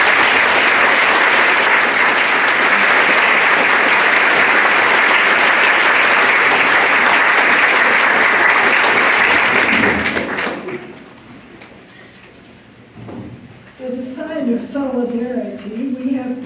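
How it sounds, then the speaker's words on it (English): Audience applauds award recipients at a Napier Initiative ceremony, a dense sustained wave of clapping for about ten seconds that then fades out, followed by quieter sounds and a voice speaking. "Let's give them all a hand."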